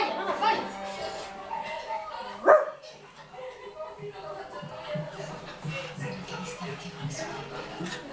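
A pet dog gives one sharp, loud bark indoors amid a family's chatter, while the voices continue before and after it.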